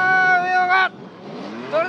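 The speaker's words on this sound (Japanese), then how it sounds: "エンジン音が高鳴って" A drift car's engine revs during a D1 Grand Prix 2022 Round 2 battle run, a sustained, buzzy engine note that cuts off abruptly and then climbs back up near the end.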